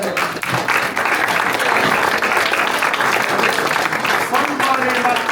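Crowd applause at a local Democratic Party candidates event as congressional candidates are called up, a dense, steady round of clapping with voices and cheers mixed in underneath.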